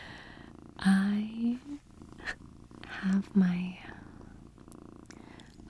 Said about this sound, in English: oh-so-lovely kitty cat